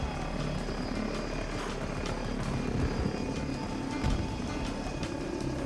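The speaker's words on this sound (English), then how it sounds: "There's a chopper right there." A helicopter in Battlefield 2042 gives a steady, loud rotor and engine drone with faint thumps and no talk.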